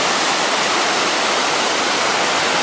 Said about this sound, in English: 2-foot high waterfall there